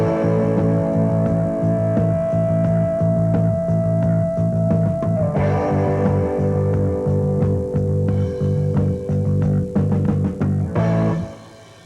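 A rock band plays a steady eighth-and-two-sixteenths rhythm, the bass locked to the same pattern as the hi-hat, dense and continuous with a held chord that shifts midway before stopping abruptly near the end.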